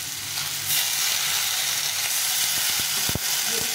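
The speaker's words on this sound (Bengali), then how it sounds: "ভালো করে ভেজে নেবো" Vegetables with turmeric and salt sizzle steadily in a hot pan for a small-fish curry, a loud constant frying hiss broken by a few clinking stirs of a utensil near the end.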